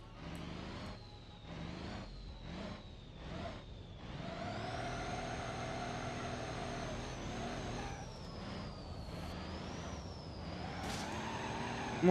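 A truck in BeamNG.drive running with turbo and nitro engaged, its engine roaring loud and steady, the pitch climbing and holding high over about twelve seconds, with sharp rising whines near the end.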